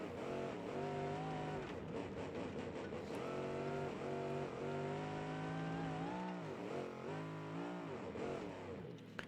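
A modded car engine in BeamNG.Drive revs and drops repeatedly, its harmonic whine sweeping up and down in several surges, steady and prominent with no talk over it.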